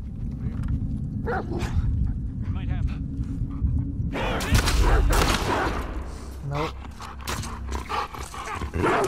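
A dog barks repeatedly in the video game The Last of Us Part II, loud and close, mixed with bursts of gunfire and a voice talking over it.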